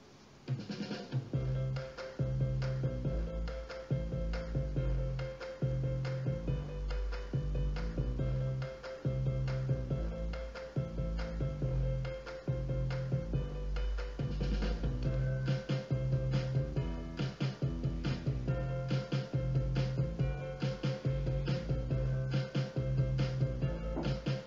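Music played back through a Turtle Beach Stealth 700 Gen 2 wireless gaming headset during a headset test, a steady rhythmic track with a strong beat and a sustained bass line, continuous and loud with no talking.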